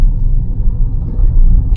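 A car creeping slowly into a narrow road gives off a steady low engine rumble, loud and close, with no voices over it.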